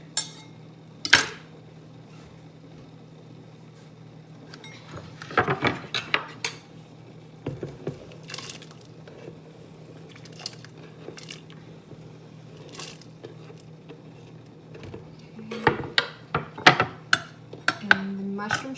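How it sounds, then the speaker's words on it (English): A knife cuts carrots and onions on a board for vegetable miso soup, with sparse, irregular close taps and clacks over a low steady hum that turn into a quicker cluster of chops near the end. "Cutting the carrots and the onions because they take the longest to cook."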